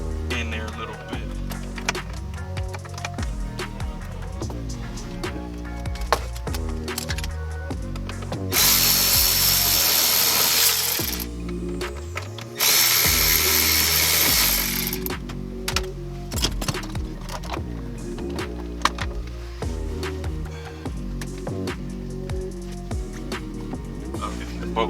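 On a Nissan, a power tool works a bolt loose, with two sustained loud whirring bursts of several seconds each amid clanks and handling noise, close by, while someone talks.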